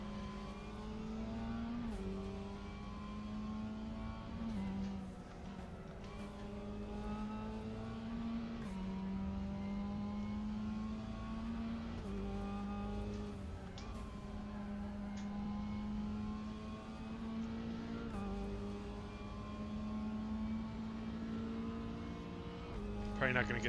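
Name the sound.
race car engine and braking in video game Raceroom Racing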